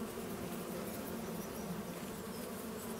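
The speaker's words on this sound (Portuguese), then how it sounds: "Ei, colmeias." Bees hum around beehives in the Farming Simulator 2025 video game, a steady, continuous buzzing drone that stays even and unbroken throughout, with no voices.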